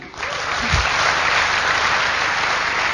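Audience applause for a sponsor at a motivational seminar, a dense steady wash of clapping that holds loud and even across the whole stretch after a brief low thump at the start.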